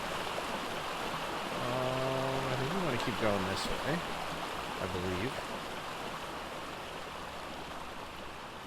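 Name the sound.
waterfall in the video game Ark Survival Ascended, Ragnarok map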